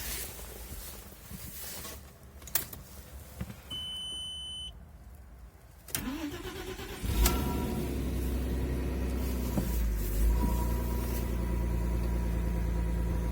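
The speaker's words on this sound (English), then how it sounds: "Now this thing's got some sort of a sports exhaust on it and it sounds awesome" Audi A4 B5 2.4 V6 with a sports exhaust starting from cold at minus seven degrees: dash beeps, a cranking catch, then a loud, deep, steady idle rumble close by.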